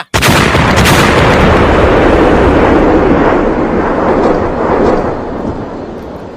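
A huge explosion sound effect from a Thai audio drama hits suddenly and loudly, then rolls into a long, thunderous rumble that slowly fades, with no voices over it.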